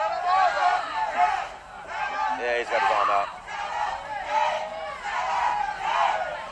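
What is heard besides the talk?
crowd screaming the fighter's name Taylor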